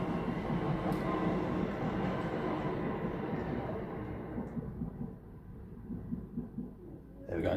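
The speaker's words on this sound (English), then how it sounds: "There you go, there's a train." A train rumbling past at close range during a tabletop miniatures unboxing, a loud sustained roar with rattling that slowly fades as it moves away, ending in a sudden bump.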